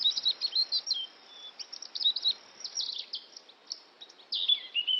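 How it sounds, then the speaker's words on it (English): A bird gives repeated high chirps and short whistled calls in winter, fairly close and clear over a quiet background with no voices. "A remarkably similar-looking bird to the pine grosbeak, though not related, is the robin."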